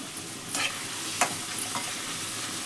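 Onions sizzle in a hot pan, with turmeric added, for an Andhra-style chicken fry curry. A steady, close frying hiss runs throughout, broken by a few scraping stirs of a spoon against the pan.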